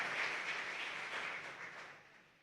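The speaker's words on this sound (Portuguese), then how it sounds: "Vamos aplaudir o Senhor nessa manhã." Applause from a church congregation during a morning worship service, a dense sustained clatter of clapping that gradually fades away toward the end.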